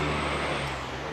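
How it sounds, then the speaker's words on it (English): A loud car with no muffler passes outside, a steady rough roar that fills the whole stretch and fades only slightly toward the end. "I'm sorry about the car noise."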